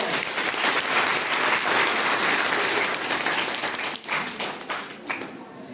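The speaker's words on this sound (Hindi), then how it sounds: "एक बार जोरदार तालियां के लिए।" Applause from an audience at a National Mathematics Day event honouring Srinivasa Ramanujan, a dense burst of clapping that holds steady and then thins out toward the end.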